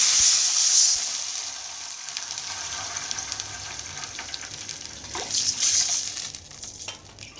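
Water pours and splashes into a pot of rice, with bright hissing bursts at the start and again near the end, close and fairly loud with no voices.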